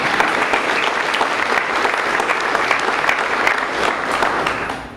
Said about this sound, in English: A round of applause would be good for Alex.